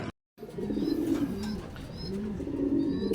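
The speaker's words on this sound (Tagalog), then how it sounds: "Second bird natin, ayan ah. Nice landing." A racing pigeon that has just landed at a loft in Padre Garcia, Batangas coos in repeated soft, throaty phrases, close and clear with no talk over it.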